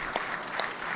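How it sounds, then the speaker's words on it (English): Steady applause from an audience at a college football press conference, a continuous dense patter of clapping filling the short moment, with no speech. "you guys should be clapping about that"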